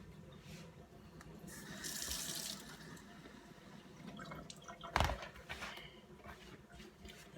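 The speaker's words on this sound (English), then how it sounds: "So now, just want to add a little water." Water is poured from a cup into a bowl of flour and margarine for Jamaican fried dumpling dough, giving a soft trickling splash, faint and close, followed by a quiet knock and light handling sounds, with no talking.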